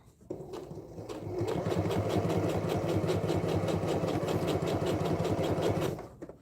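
A sewing machine stitches through oilskin and quilting cotton for a tote bag, starting with a few hesitant stitches and then running at a fast, even, whirring rhythm for several seconds before stopping abruptly.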